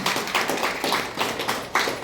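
Scattered clapping from a small group of guests at a first wedding anniversary celebration, uneven claps repeating in loose bursts, moderately close.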